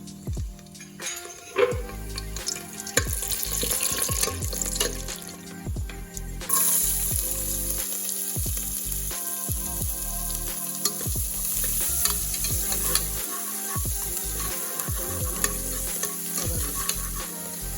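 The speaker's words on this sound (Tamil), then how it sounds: "ஆயில் சூடாயிட்டு பட்டை வகையை போட்டுக்குவோம்." Cinnamon and whole spices frying in hot oil in a pressure cooker for jackfruit seed gravy, a soft continuous sizzle broken by repeated stirring clinks and scrapes, fairly quiet and with no voices.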